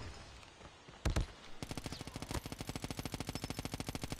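Rapid sustained bursts from a light machine gun in Call of Duty Mobile, a couple of sharp shots followed by a fast, even rattle of automatic fire close by, with no talking over it.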